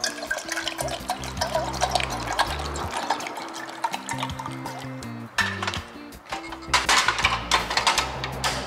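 Tap water runs steadily into a sink to make hot water for soaking clams, heard at close range under continuous background music.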